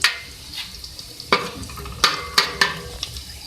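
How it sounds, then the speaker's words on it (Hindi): Black cardamom, green cardamom and cloves hit hot oil in a pan with a soft steady sizzle, punctuated by several sharp stirring clinks and scrapes of a spoon against the metal. "इसी ऑयल में मैं ऐड करूँगी, मेरे पास है एक बड़ी इलायची और 3 मेरे पास लौंग है और 2 मेरे पास छोटी इलायची है, ये मैं डाल रही हूँ"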